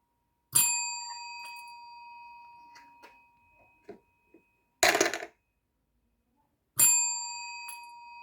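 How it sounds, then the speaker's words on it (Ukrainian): A small desk bell rings three times with long ringing tails, and between the rings come soft knocks and one clattering burst as a game chip is dropped into a container, close and clear in a quiet room. "Спочатку дзвіночок, натискай дзвіночок, потім фішку бери та кидай контейнер."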